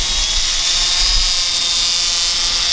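FUAV Seraphi GPS quadcopter hovering nearby, a loud, steady high-pitched whine of spinning rotors with a constant buzzing drone and no pauses or talking.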